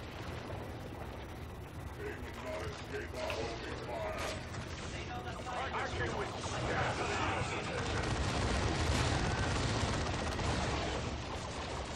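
Rapid bursts of plasma gun fire in Dawn of War II: Retribution, crackling and popping among dense battle noise, mechanical clatter and explosions throughout at steady loudness.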